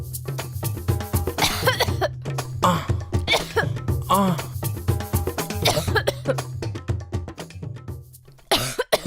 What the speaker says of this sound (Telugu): మీకు నిమ్ము చేరినట్టుంది, అందుకు అంత బాగా దగ్గుతున్నారు